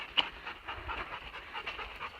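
Puppies pant close by while climbing slick rock through mud in a canyon, with quick rhythmic breaths and a brief sharp sound near the start.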